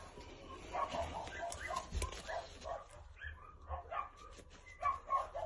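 Weak, unwell puppies whimper and yip in short, faint repeated cries, with a quiet voice talking at times.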